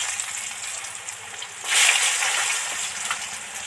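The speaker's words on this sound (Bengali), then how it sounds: "ওই মাছের তেলে বেগুনগুলো আস্তে আস্তে ভেজে নেব" Eggplant slices fry in leftover fish oil in a pan, giving a steady close hiss that swells into a louder, brighter sizzle partway through and holds there to the end.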